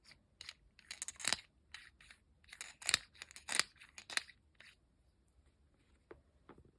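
A Kaweco pen, plastic version, makes a series of sharp clicks and snaps in irregular bursts, close and crisp against near silence.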